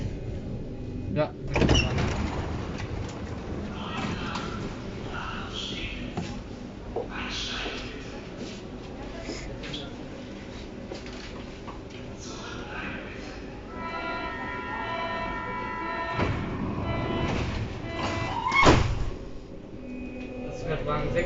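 Berlin U-Bahn train car squealing as it runs, metallic high-pitched screeches and whines rising over the steady rumble and rattle of the carriage, with people talking nearby.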